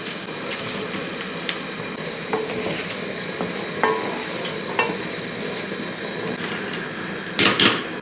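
Papaya snack pieces fry in hot oil with a steady close sizzle, punctuated by occasional clinks and scrapes of stirring, with no talking over it.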